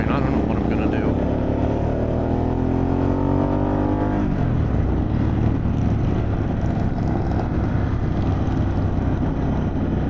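A Harley-Davidson Pan America motorcycle fitted with a Vance & Hines exhaust runs loud and close, its engine note rising in pitch as it revs, then settling into a deep, rough rumble.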